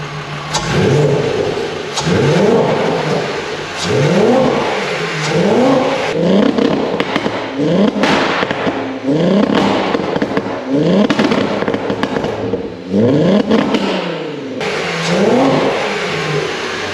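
A Mk2 Golf GTi 16v engine, fully warmed up, is revved repeatedly in loud, close bursts, each rise and fall of revs repeating roughly every two seconds with sharp pops and crackles between blips.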